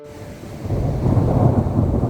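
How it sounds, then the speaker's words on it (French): An April thunderstorm rolls in, with thunder rumbling low and loud and steady rain building beneath it, the storm swelling over two seconds and no voices present. "un grand soleil qui nous éblouit le matin et 2 minutes plus tard, un orage qui nous pète à la gueule."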